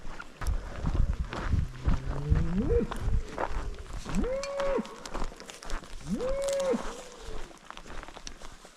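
A cow moos three times, long drawn-out calls at moderate distance, outdoors on a desert trail in Arizona in the rain, with steady background noise and a short burst of footsteps near the start.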